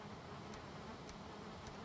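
Bees buzz in the Valheim video game, a soft, continuous insect drone at low level with faint periodic high clicks, no voices present.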